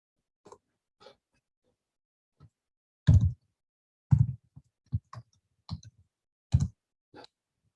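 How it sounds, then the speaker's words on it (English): Keys clicking on a keyboard during an online workshop: a sparse run of separate taps with uneven gaps, a few louder strokes mid-way, close and fairly quiet with no talking. "Let me type it out to everyone right now."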